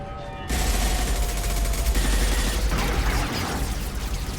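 Dense, continuous automatic gunfire in the video game Mass Effect 2, a loud sustained barrage of rapid shots beginning abruptly after a brief quiet moment and continuing without pause, with no voices.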